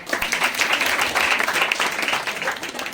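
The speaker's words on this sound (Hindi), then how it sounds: "ताली बजाओ भाई।" A crowd applauds steadily and closely for a few seconds, with dense overlapping hand claps and no voice on top.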